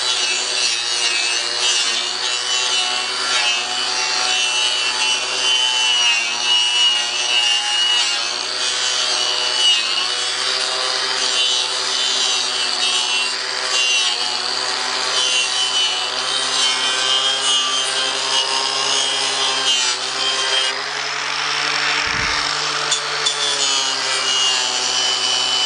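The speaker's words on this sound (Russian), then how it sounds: "Вот эту работу, видите, быстро производится болгарка." An angle grinder with a brush attachment cleans dark spots off the ends of wooden boards used to clad a house's walls and ceiling, giving a loud, continuous high whine and abrasive scrubbing that runs steadily throughout.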